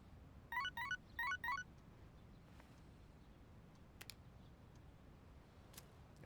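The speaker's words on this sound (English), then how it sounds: "Got text message." Persona 3 Reload text message notification: two quick bursts of bright chirping tones near the start, followed by faint ticks and clicks over quiet game ambience.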